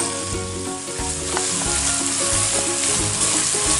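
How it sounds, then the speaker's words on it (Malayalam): Okra sizzles as it shallow-fries in oil in a pan, a dense continuous crackling hiss at steady loudness with faint clinks of stirring and no voices. "ഡീപ്പ് ഫ്രൈ ആയിട്ട് ചെയ്യുന്നില്ല, ഷാലോ ഫ്രൈ ആണ് ചെയ്തെടുക്കുന്നത്"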